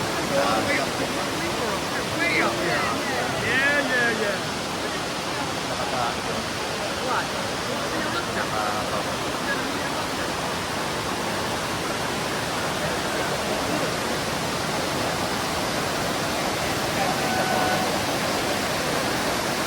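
Steady, continuous rushing of Dunn's River water in Jamaica, a dense broadband roar that never lets up.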